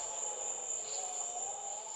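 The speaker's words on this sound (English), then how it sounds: "Crickets chirped softly in the distance." Crickets chirp in a steady, unbroken shimmer on a cool night near a garden, soft and distant, with no voices over them.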